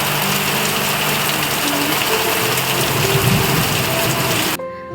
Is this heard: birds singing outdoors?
no